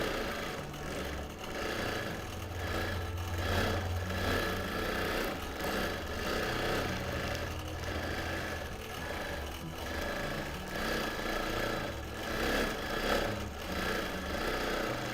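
Sewing machine stitching steadily while free-motion quilting a linen-blend penny sampler quilt, a continuous close mechanical whir with low droning hum that shifts slightly in speed as the fabric is moved, no talking.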